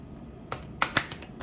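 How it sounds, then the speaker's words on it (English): Tarot cards made of a stiff, hard-to-shuffle material being shuffled by hand, heard as a few quiet, sharp riffling snaps and flicks close up, with no talking. "how hard it is to shuffle these cards"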